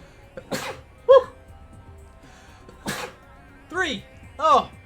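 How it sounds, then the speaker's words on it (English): Three sharp, forceful sneezes during a game broadcast, each a brief loud burst, widely spaced, between voiced breaths and short vocal noises from the person nearby. "Oh, I got a sneeze coming."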